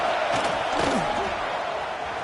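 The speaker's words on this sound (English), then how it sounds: "Here comes the noise from this big crowd in Happy Valley on 3rd down." A big stadium crowd in Happy Valley roars steadily on third down at a college football game, a dense, loud wall of voices with whistles and yells rising briefly near the middle.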